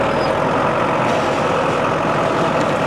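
John Deere 5520 tractor engine running loud and steady close by, a dense continuous roar with a low rumble, the gear change not distinctly marked.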